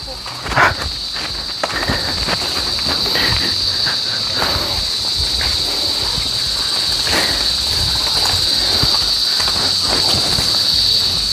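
Steady high-pitched cricket trilling in a forest fills the background continuously, with rustling and occasional voices underneath.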